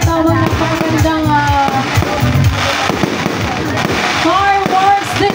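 New Year fireworks exploding in repeated loud cracks and booms, with excited voices talking and exclaiming over the bangs throughout.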